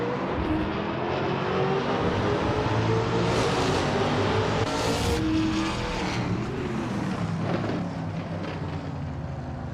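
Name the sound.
2021 Ford Mustang race car engines at race start, racing video game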